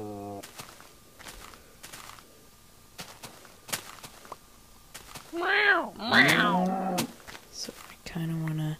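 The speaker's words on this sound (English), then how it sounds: "it's the other cat" Two short, rising-and-falling cat meows from Neko's Cat Mod in Minecraft, fairly loud, over faint game footsteps and soft clicks.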